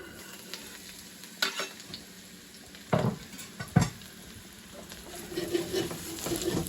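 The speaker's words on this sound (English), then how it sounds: "Now I'm adding the aubergines into the frying pan." Aubergine pieces sizzle and crackle in a hot frying pan, with occasional scraping and clinks of a utensil stirring.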